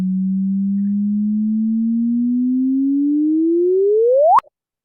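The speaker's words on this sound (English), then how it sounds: "That sound was the gravitational wave." A sonified gravitational wave chirp from a 2017 merger event: a steady pure tone that slowly rises in pitch, then sweeps sharply upward at the end and cuts off with a brief click, loud and alone.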